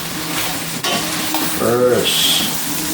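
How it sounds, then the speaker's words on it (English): Fish sautéing in a hot pan, a steady close frying sizzle with a brief stir or clatter partway through, continuous throughout, while a person talks over it. "So, getting this sauteed."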